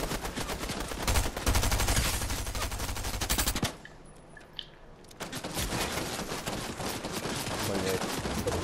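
Rapid automatic gunfire in the Fortnite video game, dense and loud for several seconds, breaking into a brief lull before the shooting resumes just as heavily.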